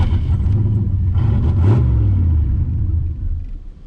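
Warm budget GT40 turbo build engine rumbling roughly at a struggling idle, a loud close low throb that wavers and briefly surges before settling, with no speech.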